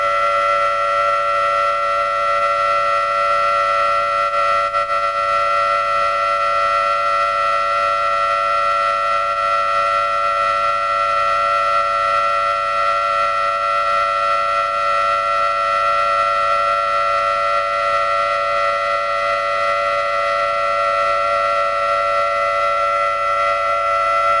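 A loud, continuous steady tone with stacked harmonics drones unbroken for the whole stretch, used to make an object levitate and spin, with no other sounds over it.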